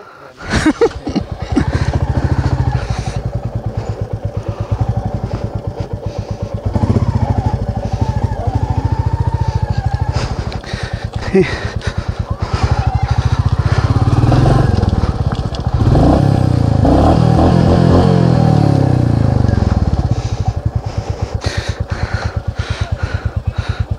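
A motorcycle engine runs loud and close for the whole stretch in Dzongu, North Sikkim, its low rumble rising and falling with revs, with some rattling and clatter.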